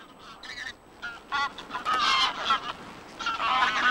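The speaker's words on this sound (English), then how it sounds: "These are mostly grey-legged geese." Greylag geese in the Volga delta honk repeatedly in loud, overlapping bursts, a flock calling close by with brief pauses between calls.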